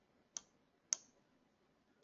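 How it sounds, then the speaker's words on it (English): Two crisp, isolated computer mouse clicks about half a second apart, then a third click at the very end, close and clear against near silence. "you can preview it by clicking that little film icon."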